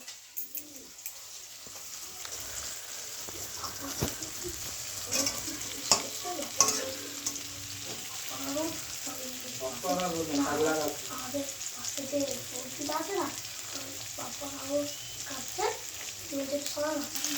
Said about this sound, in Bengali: এই হচ্ছে পেঁয়াজটা ভাজা হোক